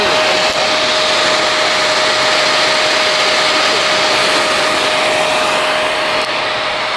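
A KTM two-stroke dirt bike engine runs on slickrock, a steady, loud, high-pitched buzzing drone that holds without pause throughout, with a constant whine and no voices.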